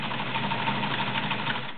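A Kenmore Model 1318 sewing machine runs a zigzag stitch, giving a steady, fairly quiet mechanical whir with a fast even rhythm that carries through the whole stretch without pause.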